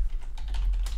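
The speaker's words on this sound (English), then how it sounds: "Today I got to type in some commands here" Commands typed on a computer keyboard, a quick run of close clicking keystrokes over a low steady hum, with no voices.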